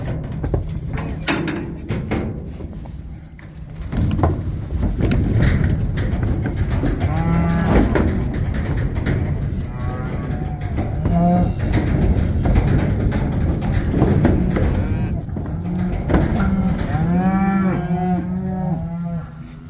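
Cattle and calves being hauled home as a second load moo repeatedly and loudly, several animals calling over one another with long drawn-out bellows above a steady low rumble throughout.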